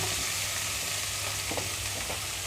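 Peanuts and green chillies frying in a pan, a dense even crackling sizzle with a couple of soft stirring scrapes near the end, no voices.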